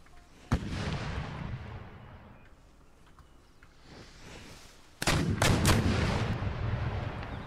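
Mortar artillery fires in the strategy game Empire Total War: a sharp boom and rumble early on, then a heavy burst of overlapping booms and blasts that keeps rolling loudly to the end.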